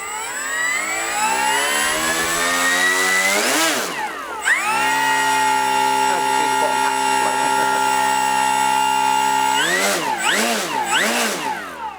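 The electric motor of a Hobby King Super G RC autogyro throttles up to a loud rising whine, holds a steady high pitch, and dips and surges twice, close and dominant.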